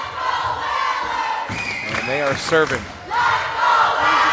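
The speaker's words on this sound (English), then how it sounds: "Crowd trying to get into it here at Nantucket with the Let's Go Whalers chant" At a Nantucket Whalers high school volleyball match against Bridgewater-Raynham, the home crowd in the gym raises a rhythmic shouted chant, loud and echoing, after a commentator's brief line about the serve, with crowd noise continuing underneath.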